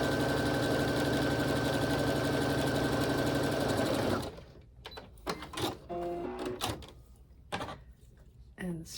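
A sewing machine stitches quilt pieces together with a steady, fast mechanical whir for about four seconds, then stops, leaving scattered clicks and handling noises while a person talks.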